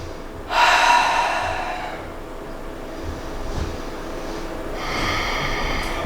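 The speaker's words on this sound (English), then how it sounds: "Breathing." Slow, deep breathing during a yoga flow in boat pose: a loud, airy inhale, a long fading exhale, then another breath rising near the end, close and without talk.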